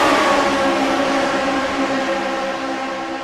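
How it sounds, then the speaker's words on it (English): Race car engines roar in a sim racing game at Michigan, a loud, steady, high-pitched drone of several cars at full throttle in a pack, with no voices. "let's turn up the engines, let's crank it up at Michigan"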